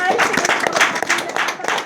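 A church congregation claps hands together, loud and close, a brisk rhythmic run of sharp claps with voices mixed in.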